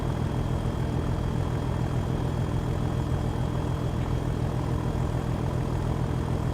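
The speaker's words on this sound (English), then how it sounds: "It's a fairly loud locomotive, yes." A loud locomotive engine in Train Sim World 2 drones steadily on a West Cornwall branch line, a constant heavy rumble with a faint high whine, unbroken throughout.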